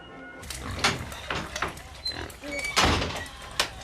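A farm pig oinks and grunts in a series of rough snorts close by, with a door sound and people talking over it.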